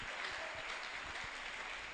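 Audience at a Catholic youth prayer-group gathering (Kairós de Jovens) applauds in a steady, dense wash of clapping that holds at an even level throughout, without any voices on top.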